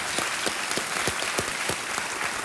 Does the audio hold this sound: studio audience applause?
yes